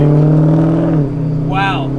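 An old-school Australian car engine revs loudly from close by, holding a strong, steady note before dropping in pitch and settling, with a short vocal sound near the end.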